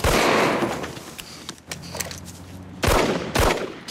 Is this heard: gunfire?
yes